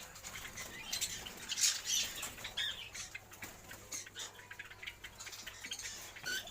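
Small caged cockatiels rustle and flutter with scattered high chirps and scratchy ticks, close by and fairly quiet, with no talking.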